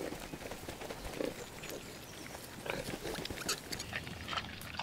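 Free-range piglets roam a natural Supramonte meadow in Sardinia, giving soft grunts and squeals with faint rustling and footsteps, fairly quiet and scattered.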